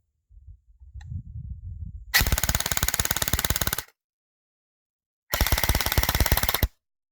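Cybergun FN M249 Featherweight airsoft gun on an 11.1 V LiPo rattles off two rapid full-auto bursts, each about one to two seconds, loud and close, after a low handling rumble.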